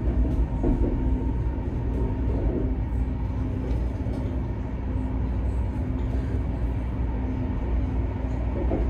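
Steady low rumble and hum inside a Chinese CRH high-speed train heading to Hangzhou, a constant rolling drone with no voices, loud and continuous throughout.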